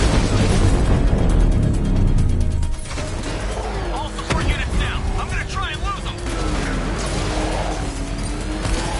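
A militia APC is blown up in the video game Batman Arkham Knight, a heavy booming blast and crash up front giving way to lingering rumble and scattered pops.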